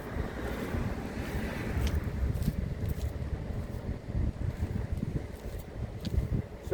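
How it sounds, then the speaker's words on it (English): Wind buffets a microphone outdoors, a loud, low rumbling roar that swells and drops in uneven gusts throughout, with no voices heard. "The problem around here is the wind."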